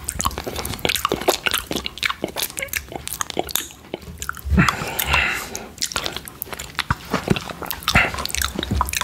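Close, wet mouth sounds of eating cherry yoghurt, with frequent small smacks and squishes in an irregular rhythm, heard alone and intimately near.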